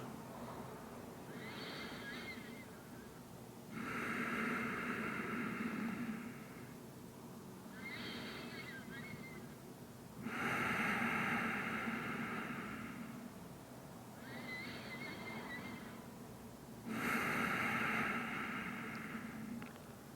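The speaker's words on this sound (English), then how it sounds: "And deep breathe through the nose." Slow, deep breaths drawn in and let out through the nose during a beginner yoga practice, in about three unhurried in-and-out cycles, each a soft, airy rush heard up close with no other sound.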